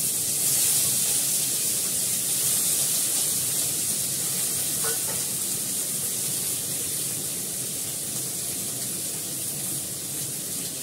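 Constant sizzle of red chokla (a red leafy green) frying in hot oil in a pan, an even hiss at moderate volume with a brief faint clink partway through.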